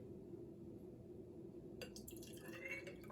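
Water poured into a measuring cup, a quiet steady trickle against background hum that grows into a brighter filling splash toward the end.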